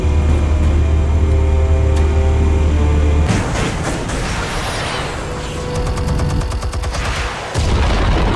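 In the Batman Telltale Series, a deep, loud blast cuts off a low humming drone and then trails into crackling debris and rumbling, with a brief dip before the noise returns. No one speaks.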